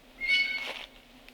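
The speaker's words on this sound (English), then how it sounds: "There's the blue jay calling." A blue jay gives a single harsh, wavering call outdoors, moderately loud and lasting under a second, followed by quiet.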